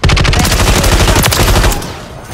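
Rapid, loud automatic gunfire in Call of Duty Modern Warfare 3, a dense unbroken burst of shots up close that cuts off abruptly near the end.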